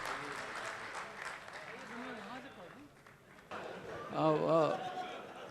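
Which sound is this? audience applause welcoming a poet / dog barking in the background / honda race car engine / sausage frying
audience applause welcoming a poet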